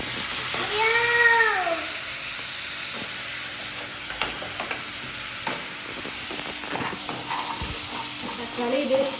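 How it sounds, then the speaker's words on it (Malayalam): Chopped tomatoes hit hot oil in a frying pan for mushroom masala, a loud sizzle that settles into steady frying hiss with scraping stir strokes, while a voice and some faint whistling tones sound briefly at the start. "ഇനി തക്കാളി ഇട്ട് കൊടുക്കാവേ."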